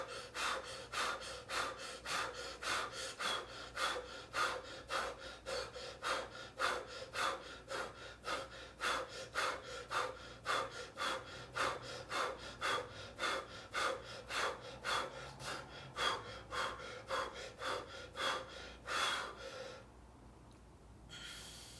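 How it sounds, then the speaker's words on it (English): Rapid, regular mouth breathing during a breathing exercise: a long series of evenly spaced forceful breaths, close to the microphone, continuing without pause before stopping abruptly near the end. "37 breaths using my mouth."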